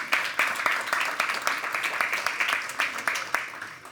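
An audience claps steadily, a dense patter of many hands with rhythmic peaks, close and continuous.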